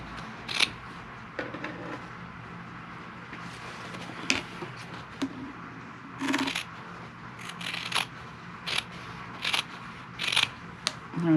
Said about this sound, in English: Trim my seam allowance down.